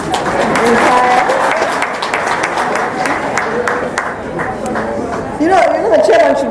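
An audience at the release of the Kenyan KCSE 2018 exam results breaks into applause, a loud run of individual claps close by, while people talk and a voice speaks through the clapping.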